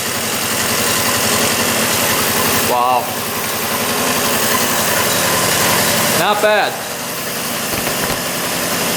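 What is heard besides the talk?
moped engine idling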